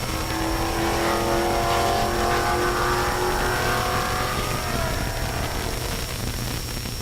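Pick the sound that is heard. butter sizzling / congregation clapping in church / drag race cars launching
drag race cars launching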